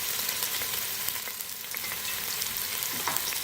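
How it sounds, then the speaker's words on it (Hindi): Two medium sliced onions frying in hot oil, a steady, close sizzle with light stirring scrapes throughout, no voices. "अब इसी ऑयल में हम प्याज शामिल करेंगे।"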